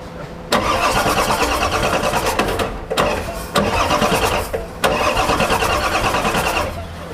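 Diesel engine with no glow plugs cranking and catching, loud repeated bursts of starter cranking and rough firing separated by short pauses, then settling into a running clatter.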